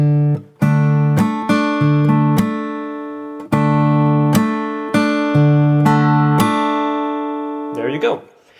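Acoustic guitar picking out the melody of a tune, with plucked notes and percussive string slaps in a slow rhythm, each struck note ringing and decaying, played alone up close.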